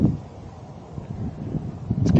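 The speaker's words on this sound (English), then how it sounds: "It's getting windy out here." Wind blowing outdoors ahead of a storm, low rumbling gusts buffeting the microphone unevenly and building toward the end, with a voice briefly audible over it.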